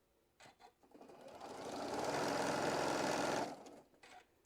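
A sewing machine stitches quilt block pieces, rising from a few brief clicks into a steady whirring run of about two seconds before slowing and stopping.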